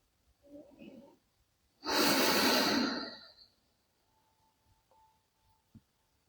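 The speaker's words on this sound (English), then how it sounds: "And breathe." Slow, deep breathing during a guided meditation: a soft inhale followed by a long, strong exhale of about a second and a half, close and alone in an otherwise quiet room.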